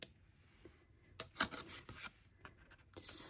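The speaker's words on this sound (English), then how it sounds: "I will just trim them just slightly" A hot chocolate pouch for a Christmas Eve box is trimmed slightly, giving soft rasping cuts and rubbing in a few uneven close strokes, with one sharper snip near the middle and a brighter scrape at the end.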